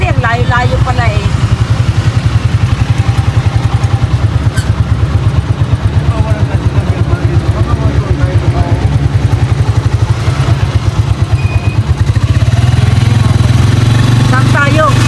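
Motorcycle engines idle in a motorcycle parking lot, a steady low rumble throughout that swells louder near the end, with people talking over it.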